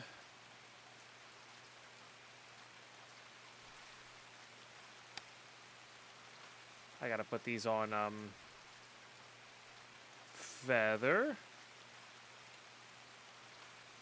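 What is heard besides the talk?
rain in video game Escape from Tarkov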